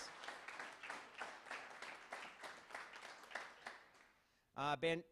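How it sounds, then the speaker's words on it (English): Audience applause at a university pitch competition final round, a steady spread of clapping for about four seconds that fades before a brief loud burst of voice at the end. "Kim's over here, so round of applause"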